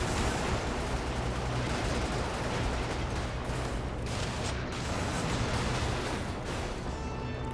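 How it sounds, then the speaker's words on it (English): In the video game Brigador, a Gauss cannon fires amid a dense, loud roar of overlapping blasts and rumbling impacts that fills the whole stretch without a break. "Oh Christ, Gauss cannon."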